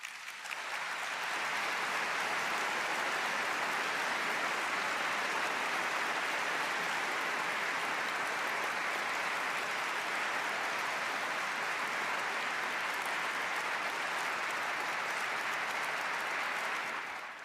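Sustained applause from the audience at the Nobel Peace Prize ceremony, a dense, steady wash of clapping that holds evenly loud for about seventeen seconds with no talk over it.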